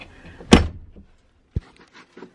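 A bus door on a bus being converted into a motor home is worked by hand. A loud swinging clatter is followed by a sharp latching clunk and faint knocks, close by in a quiet space.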